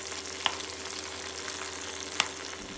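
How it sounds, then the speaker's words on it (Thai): Marinated pork fries in a pan of oil in a field kitchen, giving a steady, close sizzling hiss with two sharp spatula clicks against the pan. "เราจะทอดหมูของเราให้สุกเหลืองกรอบกันเลยนะครับ"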